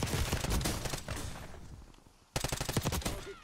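Rapid automatic gunfire from Black Ops 6 Warzone, fired from an XM4 rifle, rattles in loud dense bursts, pauses briefly as it thins out, then resumes in a sharp burst of fast repeated shots.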